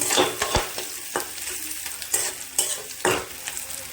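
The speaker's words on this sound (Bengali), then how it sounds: "পেঁয়াজটা একটু ভাজা ভাজা হয়ে গেলে এর মধ্যে দিয়ে দেবো আমি একটা ডিম।" Onions fry in a pan with an egg added, giving a soft sizzle under repeated scraping and stirring strokes, with a few sharper knocks of the utensil against the pan.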